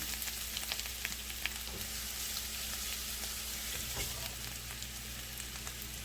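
Prosciutto and bacon frying in a pan while being stirred, a continuous close sizzle with scattered crackles and small pops, no voices over it.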